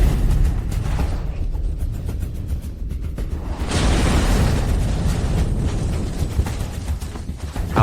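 A guided missile explodes with a loud, sustained roar and rumble that carries on as a low booming wash for several seconds, heavy with deep, noisy energy throughout.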